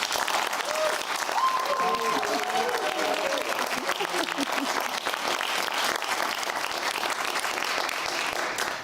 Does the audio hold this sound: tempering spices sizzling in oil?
no